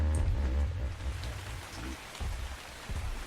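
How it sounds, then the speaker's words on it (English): Rain patters steadily in ARK as a broad, even hiss of drops, with a low rumbling ambience underneath and no speech. "Hey, it's raining."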